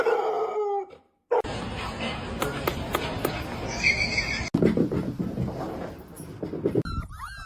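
A dog barking and howling at strangers indoors, loud, sustained yowling cries with sharp bursts over several seconds, a person speaking briefly at the start.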